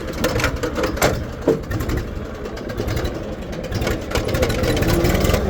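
A parked tractor's engine runs steadily at idle nearby, a loud, even mechanical chugging that continues throughout with no talk.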